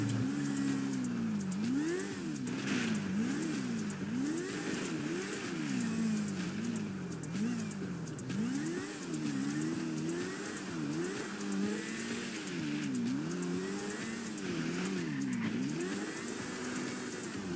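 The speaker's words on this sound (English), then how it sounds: "It's much easier to escape on a motorbike in GTA." A motorbike engine in GTA V revs up and down repeatedly in a steady rising-and-falling pattern while fleeing police, droning continuously at moderate level with a hissing background.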